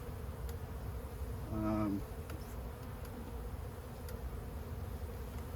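Honey bees during an owl house swarm cutout, with a low constant background hum and one louder, close buzzing bee passing for about half a second midway.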